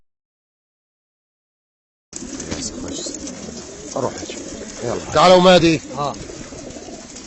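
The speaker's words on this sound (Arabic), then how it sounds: "هذا الحمام. شوفوا الحمام مرتاح" Racing pigeons in a loft cage cooing softly close by, mixed with rustling and people talking over them, ahead of a race release of 1,250 birds from Numaniyah.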